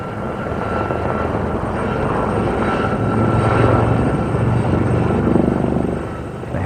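One Lynx and four Gazelle military helicopters flying an air display at the Royal International Air Tattoo, a loud, continuous rotor and turbine roar that swells midway as the machines pass close, heard alone without talk.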